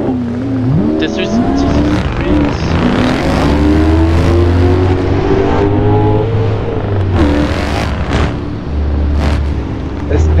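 A car in an online driving game accelerates hard out of a corner at full throttle, the engine loud and rising through the gears with brief shift dips, while a person talks over it.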